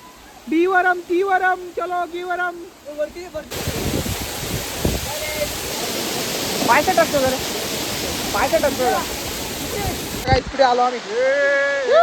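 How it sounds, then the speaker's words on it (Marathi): The Bahubali waterfall at Tamhini Ghat near Pune gives a steady, close, full roar of falling water for about seven seconds, with people talking before and after it. "भेटला आम्हाला बाहुबलीचा धबधबा"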